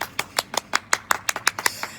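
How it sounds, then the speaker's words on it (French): Roughly a dozen hand claps in a steady, even rhythm from participants in a seniors' dance class, close by and fairly soft, with no voices over them. "on peut se donner un bon applaudissement"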